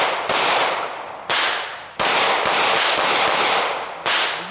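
Gunshots fired at targets in a shooting competition, five sharp loud cracks at irregular intervals, each with a long reverberating tail that fades before the next shot.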